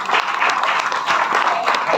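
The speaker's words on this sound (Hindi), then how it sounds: "जोरदार तालियां बजाएंगे" A church congregation at a Christian Mass in Ambewadi applauds, a dense, even wash of clapping hands that carries steadily from start to finish.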